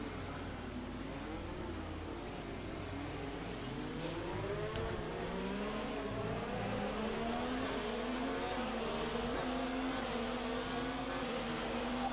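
Race car engines from the game F1 2019, a steady continuous drone with shifting harmonic pitch as cars pull away after a safety car period, loud and close throughout with no talking.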